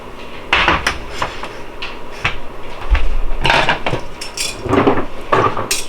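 Crisp bacon is lifted out of a Gotham Steel copper pan into a tray, with close metallic scrapes, clinks of a utensil and sharp knocks coming in irregular bursts.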